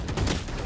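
A single gunshot in Valorant, played as Yoru, short and loud, with a brief crack and a booming tail.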